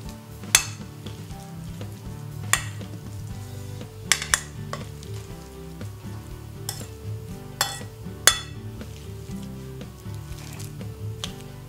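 Onion and eggplant fry in a pan for a vegan red bean burger mix, giving a steady close sizzle with several sharp scrapes and clinks of a utensil against the pan.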